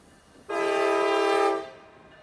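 A loud train horn blares once for about a second, steady and close, then cuts off, leaving a quiet background.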